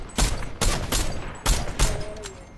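Several sharp, loud gunshot bursts sound in quick succession during a Fortnite fight, each a hard crack with a short tail, close and prominent with a faint tonal game sound under the last one.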